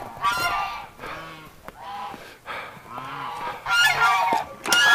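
Waterfowl kept in a pen honk and call repeatedly in short, separate bursts, fairly close and clear, with quiet gaps and some shuffling in between.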